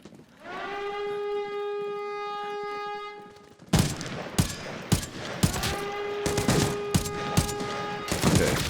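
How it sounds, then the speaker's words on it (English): Gunfire in the shooter game Arena Breakout Infinite: a wailing siren tone holds alone at first, then sharp bursts of shots and rapid automatic fire crack out repeatedly over a continuing siren. "There's a lot of shots over there."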